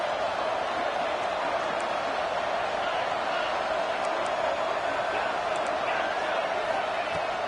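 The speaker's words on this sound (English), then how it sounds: "listen to this crowd noise. This stadium is vibrating." Stadium crowd noise in a football video game: a dense, steady roar of a packed crowd that holds at constant loudness throughout, with no distinct individual voices standing out.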